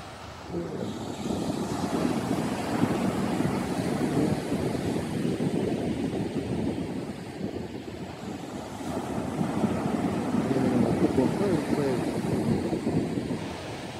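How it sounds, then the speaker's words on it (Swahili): Big Indian Ocean waves break on a busy public beach at Kawe, a steady loud roar of surf mixed with gusting wind buffeting the microphone, continuous throughout. "Indian Ocean. Mawimbi ni makubwa kweli."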